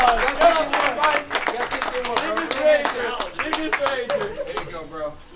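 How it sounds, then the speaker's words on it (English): A small group claps briskly for several seconds while voices chatter and laugh over the top, the clapping thinning out toward the end. "Round of applause."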